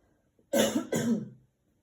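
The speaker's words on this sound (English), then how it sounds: "I've just got to clear my throat." Two quick, harsh throat-clearing rasps in a row, close and distinct, with near silence before and after.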